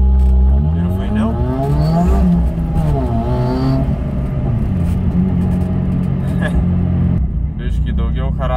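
A car's engine revs hard with one of its exhaust resonators removed, sounding loud and nearby in rising and falling sweeps with a whistling edge, and someone talks over it.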